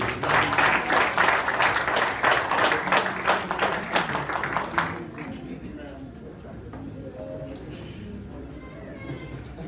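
A church congregation at a harvest service breaks into loud, dense applause for about five seconds, then it fades out and quieter murmuring and talk are left.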